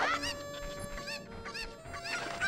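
Chickens in the video game Zelda: Ocarina of Time cluck and squawk in a short run of repeated calls over a quiet game backdrop, moderately close with no talking.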